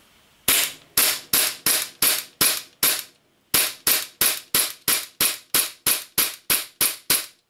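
Single shots fired from an airsoft gun fed by an Armorer Works adaptive drum magazine, a loud, sharp, evenly spaced series of about sixteen cracks, close by, with one short pause partway through.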